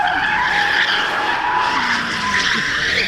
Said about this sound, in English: Oh, it's that guy again, the guy who did the burnout.